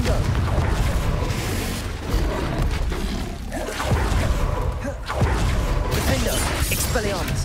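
Spell explosions from the Confringo curse in the Hogwarts Legacy video game, loud repeated bursting booms and whooshes in a dense, continuous stream of combat noise with no pauses.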